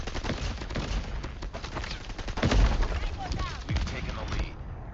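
Rapid Bizon submachine gun bursts in a video game, dense crackling shots with a louder blast near the middle, over steady game noise and a talking voice.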